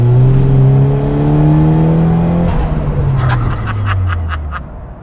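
A Ford Sapphire Cosworth accelerates hard with the throttle floored in third gear, its engine note climbing loud and close for several seconds before dropping away, with brief crackles near the end.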